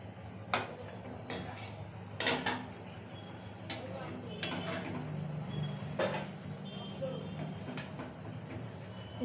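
Masala cauliflower is scraped from a metal kadai onto a plate: irregular metallic clinks and scrapes of a spoon against the pan come up close, repeating at uneven intervals while a voice talks over a low hum.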